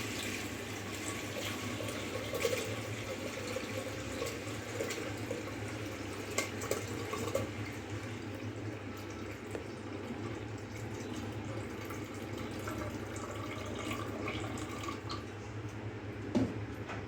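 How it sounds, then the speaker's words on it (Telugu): Water is poured into a vessel for jonna ambali, a sorghum drink with tamarind, giving a continuous soft splashing rush with a few drips and clinks, close by and without talking. "నీళ్ళు పోసుకోవాలి"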